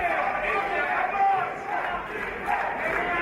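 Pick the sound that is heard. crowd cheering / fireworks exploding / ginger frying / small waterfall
crowd cheering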